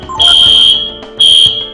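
Two loud, shrill electronic alarm beeps in the video game Breath of Fire 3, each a sustained piercing tone with a short gap between them, close and alone.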